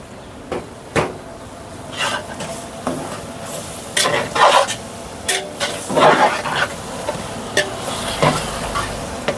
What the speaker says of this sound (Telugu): మనం వేసిన మొత్తం పదార్థాలన్నీ బాగా ఫ్రై అయినాయండి